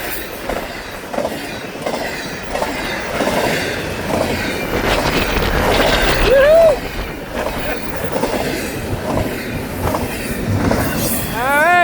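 A Florida East Coast Railway freight train rolls past near St. Augustine, Florida, loud and steady, with rumbling railcars, rhythmic wheel clatter and sharp flange squeals through most of the passage, wind noise over it.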